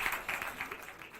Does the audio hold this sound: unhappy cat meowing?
no